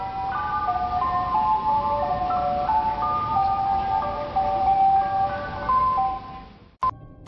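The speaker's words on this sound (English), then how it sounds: "The music the truck is playing is in a mechanical format, but the overall quality of it is terrible." An ice cream truck plays its tinny, mechanical music-box jingle loudly and continuously, its looping melody wobbling over road rumble before a sharp click near the end.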